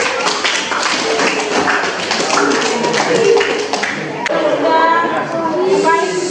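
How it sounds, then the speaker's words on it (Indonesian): Crowd clapping in a room, a dense patter of hands with voices mixed in, fairly loud and steady throughout. "Tepuk tangan mereka."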